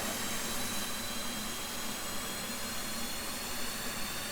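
F/A-18 Hornet jet engine spooling up in the DCS flight simulator, a steady broadband roar with a faint high whine running evenly throughout, no voices.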